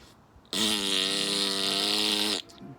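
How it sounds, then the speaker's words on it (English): Fart bag squeezed once, giving a single sustained buzzing, reedy blat of almost two seconds, loud and close, starting and stopping abruptly against a quiet background. "if the fart bag is squeezed from down here, you know, the fart bag that, you know, when it squeezes through the butthole, it gives a"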